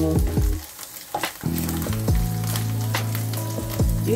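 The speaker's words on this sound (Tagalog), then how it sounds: "Kailangan mo nang igisa yung preserved vegetable" Chinese preserved vegetables sauté in a hot pan, a loud, continuous crackling sizzle broken by stirring scrapes, with a brief dip near the start before the frying surges back.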